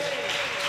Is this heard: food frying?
no